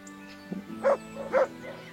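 A dog indoors gives two short, close yips or barks about half a second apart, with a softer whimper just before them.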